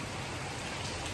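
Rain falls steadily in Patna, a continuous even hiss of drops on surfaces, close and unbroken, with no voices or other sounds over it.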